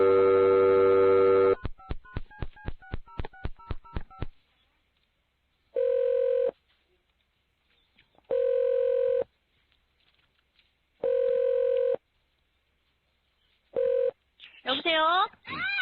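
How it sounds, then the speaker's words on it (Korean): A telephone call is placed. A rapid run of keypad dialing tones is followed by four evenly spaced ringback tones with silent gaps between them, and a brief burst of other sound comes at the very end. "그런 상황에서 전화가 옵니다."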